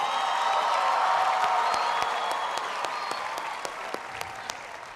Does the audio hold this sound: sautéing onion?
no